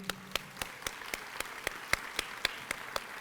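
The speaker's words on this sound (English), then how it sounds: "So another hand of applause for that group" Rhythmic, evenly spaced hand claps at a community college workforce achievement celebration, fairly quiet and sounding like a small group clapping in unison at a steady beat.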